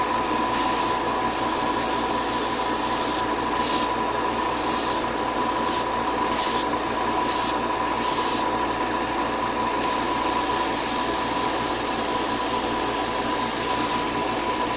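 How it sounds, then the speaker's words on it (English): Spray paint hisses onto a Bandai 1/1000 Nazca class model kit in repeated bursts, loud and close, the short sprays stopping and starting before one longer continuous spray over a steady low hum. "even though I want to spray the whole thing, you know, all of it, I want to be a little bit far away so I can vigorously apply it."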